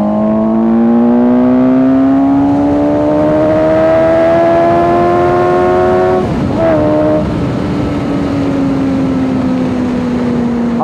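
A 2018 Suzuki GSX-S 750 motorcycle engine at steady riding speed, a loud continuous drone whose pitch climbs slowly, dips briefly with a gear change and settles, mixed with wind noise and no talk.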